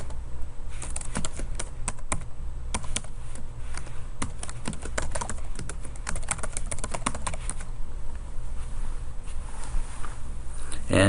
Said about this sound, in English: you'll be able to type in an email address